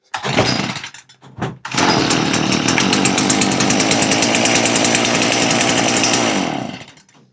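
Cold-start pull on a chainsaw engine with the choke just flipped off: quick rip-cord pulls, then the engine catches and runs loud and steady for several seconds before cutting out.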